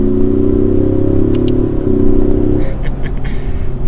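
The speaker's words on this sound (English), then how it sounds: "So we'll do another acceleration, drop into third gear." A 2021 Ford Mustang EcoBoost accelerates hard in third gear, its engine a loud, close rising drone that briefly dips mid-pull, then settles lower as the revs drop near the end.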